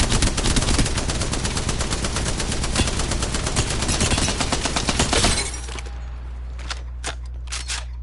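Spitfire machine gun with a purple extended heavy magazine in a video game: a loud, unbroken burst of rapid automatic fire lasting about five seconds, then stopping abruptly, followed by a few faint scattered shots.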